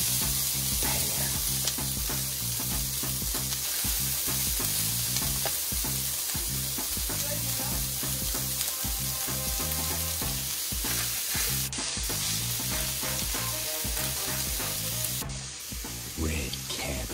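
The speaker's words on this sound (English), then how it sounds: "The Sisig in the sizzling iron pan." Sisig sizzles loudly and continuously on a hot iron sizzling plate, a constant crackling hiss with music playing alongside.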